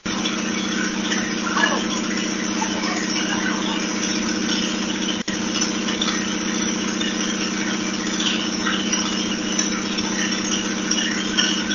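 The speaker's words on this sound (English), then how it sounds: "They got that motor actually running and installed" A freshly installed motor runs at a steady, even idle, a continuous mid-pitched hum with a faint watery pumping texture and one brief dropout near the middle.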